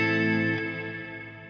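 Reverb from an A minor guitar chord rings through a Boomerang III looper, a sustained harmonic wash that swells briefly then slowly decays and fades, with no talking.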